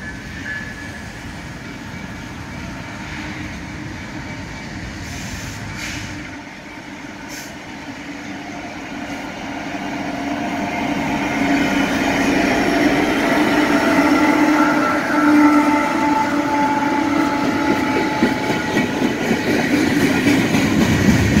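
A northbound Union Pacific freight train easing down a 1% grade rolls past, its rumble and clickety-clack of wheels building from moderate to loud and close as the cars pass steadily.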